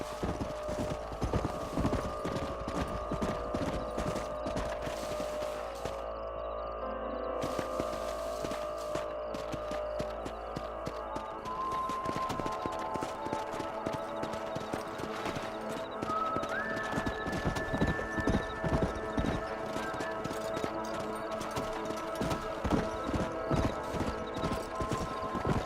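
Horses' hooves clip-clopping in the Red Dead Redemption video game, a steady, dense rhythm of many hoofbeats running throughout alongside game sounds, with an occasional whinny.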